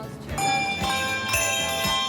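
Christmas bells ring out in a few bright, resonant strikes about half a second apart, each chime lingering and overlapping the next at moderate volume.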